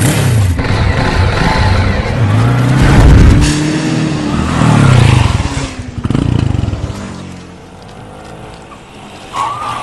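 A small auto rickshaw engine pulls up in a comic street scene, its loud, rough engine noise rising and falling over about ten seconds, with revving surges and a brief squeal near the end, no talk.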